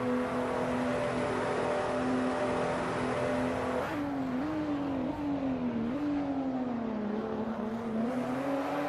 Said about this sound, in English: because of that bump, because of how late he was on the throttle, Kai is catching back up only slightly